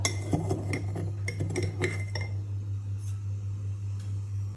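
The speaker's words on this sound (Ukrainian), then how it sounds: "Тепер окремо 3 яйця збиваємо з 3 столовими ложками" Quick clinking of a whisk against a bowl for about two seconds, close and sharp, while eggs are beaten with sugar, then a low steady hum with a couple of faint taps.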